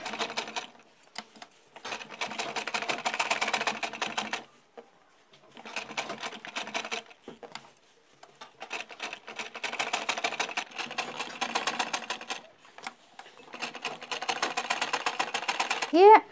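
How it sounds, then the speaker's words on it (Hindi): A sewing machine stitches around a cloth toe sock made from leftover fabric, running in several long bursts separated by short pauses, its fast needle rattle loud and close. "तो देखिए, हम इस पर सिलाई लगा लेंगे। तो सिलाई हम यहाँ से स्टार्टिंग कर रहे हैं।"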